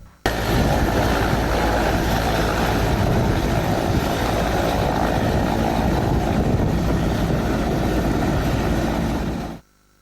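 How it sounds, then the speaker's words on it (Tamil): During a rehearsal, a helicopter comes in to land with a loud, steady roar of rotor and engine that holds constant for about nine seconds and then cuts off abruptly, with no voices heard. "ஹெலிகாப்டர் தரை இறங்குவதற்கான முன்னோட்டம் இன்று நடைபெற்றது"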